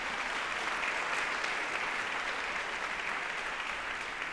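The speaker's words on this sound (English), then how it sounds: "Let's give them another round of applause for their statements of peace." An audience at a Montgomery County MLK Day celebration applauds for clergy, a steady, dense wash of clapping that holds evenly from start to finish with no voices over it.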